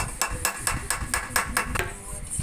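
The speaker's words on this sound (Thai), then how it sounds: "นี้เราจะทำการ ตอกตะปูกับตัววงกบนะครับ" Hammer blows drive nails into a window frame during a DIY job converting a window into a door, about eight sharp, fairly close strikes in a steady rhythm with no talk.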